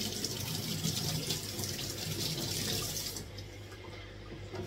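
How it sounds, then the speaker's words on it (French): Running tap water splashing over a magic eraser sponge as it is wetted, a steady close gush that cuts off near the end, no speech. "Alors maintenant, je vais mouiller mon éponge magique."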